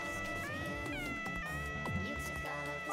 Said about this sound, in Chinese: 欸，你好吵哦，一直喵喵喵。